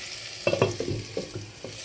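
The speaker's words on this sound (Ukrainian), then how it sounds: "додала ті чотири котлетки і смажиться разом" Cutlets sizzle and spatter in a hot pan, a few sharp crackling bursts over a steady frying hiss, close by.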